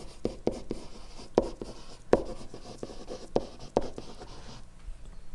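Pen or marker writing out math on a surface, a series of soft scratchy strokes and taps in an uneven rhythm, close and fairly quiet with no talking.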